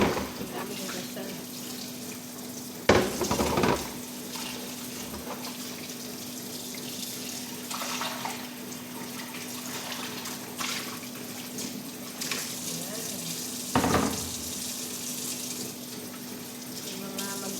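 Tap water runs steadily into a kitchen sink while a big pile of dishes is washed after dinner, with a constant close splash broken by a couple of louder clatters and faint voices in the background.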